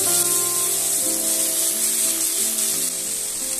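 Pea greens hitting hot mustard oil with slit green chillies and turmeric in a karahi, a loud steady close sizzle with dense frying hiss throughout and no talk.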